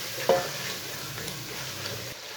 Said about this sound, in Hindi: सब चीज़ों को 5 मिनट तक भून लेंगे